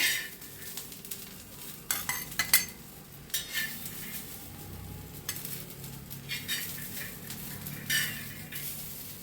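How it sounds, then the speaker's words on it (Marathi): Roasted peanuts, garlic and coriander are pounded in a mortar and pestle: irregular, fairly close knocks and grinding strikes in uneven bursts over about nine seconds, with no talk. "आपण खलबत्त्यात कुटून घेऊया"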